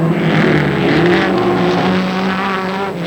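A pack of Datsun roadsters racing on the Daytona track during the 1969 ARRC Championship, loud engines roaring and revving close by, with the sound rising and shifting as cars pass.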